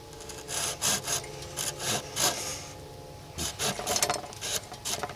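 Kershaw Taskmaster hand saw cutting a freshly cut, green one-and-a-half-inch poplar branch, giving close, rhythmic rasping strokes in irregular bursts with a short pause midway.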